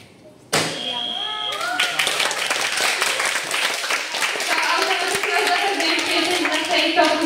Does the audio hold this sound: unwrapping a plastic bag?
no